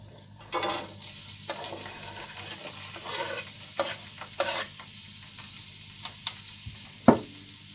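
Quiet frying sizzle of onions and peppers in a pot, with a few sharp scrapes and clinks of a utensil stirring, no voices.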